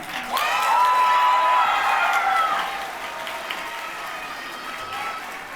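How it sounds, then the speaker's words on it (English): Audience at a high school graduation ceremony breaks into loud, sustained applause with scattered cheers and whoops, peaking early and then tapering to lighter clapping that carries through to the end. "Can we give Michaela White a round of applause?"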